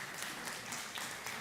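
Audience applause at a food summit during SXSW 2024, a short burst of steady clapping from a crowd, moderately loud and even across the moment.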